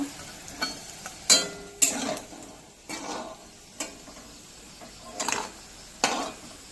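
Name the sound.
coriander leaf fritters frying in oil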